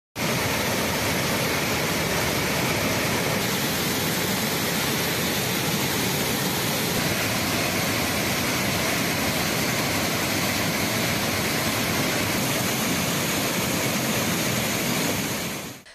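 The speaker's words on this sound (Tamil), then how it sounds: "கோதையாற்றில் ஏற்பட்ட வெள்ளப்பெருக்கால் மாவட்டத்தின் முக்கிய சுற்றுலா தலமான திருப்பரப்பு அருவியில் வெள்ளம் ஆர்ப்பரித்து கொட்டுகிறது" Thirparappu waterfall, in flood from the swollen Kodaiyar river, roars in a dense, continuous rush that stays loud and even for the whole stretch, with no voices.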